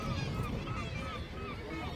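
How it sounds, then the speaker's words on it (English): Gulls call noisily around a seabird colony on a boat tour off St. John's, a dense, steady chorus of overlapping squawks and honking cries heard close by with boat and water noise underneath. "Those gulls are quite noisy."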